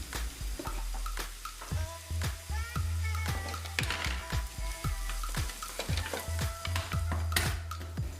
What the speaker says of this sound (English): Put a little olive oil in a pan and add the onion. Fry for a few minutes.